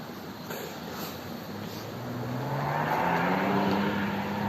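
Car accelerating hard on a city street, its engine note climbing steadily in pitch and growing louder from a distance as it approaches, heard alone without talk.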